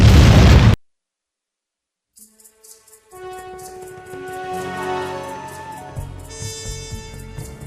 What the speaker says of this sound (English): The plan backfires and Sly is caught in an explosion.